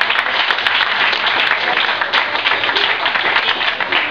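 An audience at a restaurant dinner event applauds the chef, a dense steady burst of clapping throughout with no voices on top.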